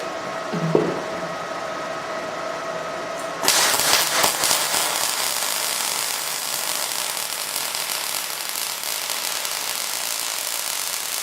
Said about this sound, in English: Tweaking the welder settings, trying to get rid of that popping and snapping.